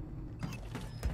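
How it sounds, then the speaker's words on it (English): A weapon reloads in Call of Duty: Modern Warfare III in about a second: a few quick, close mechanical clicks and a sliding metallic rattle, ending on a firm snap. "Reloading!"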